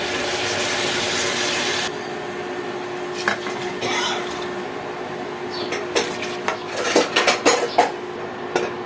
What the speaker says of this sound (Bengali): পোলাওয়ের চাল ভাজা হয়ে গেছে এবার গরম পানি দিয়ে দিব গরম পানি দিয়ে দিচ্ছি